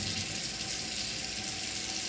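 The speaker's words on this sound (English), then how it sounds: "you're just going to run water in it, and we're going to rinse it out" A kitchen tap runs steadily to rinse salt water out of sausage casing, a constant close hiss of flowing water with no pauses.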